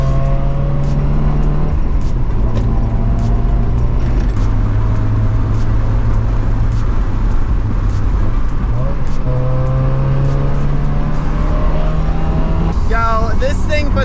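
A Mazda Miata drives and swings through a U-turn in traffic, its engine droning steadily close by with pitch shifts as it slows and pulls around, while someone talks over it throughout.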